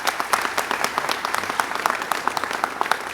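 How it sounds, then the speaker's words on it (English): Sustained, fairly loud applause from an audience at a mayor's press conference announcing youth summer jobs, steady clapping with no voices over it. "Let's give that another round of applause."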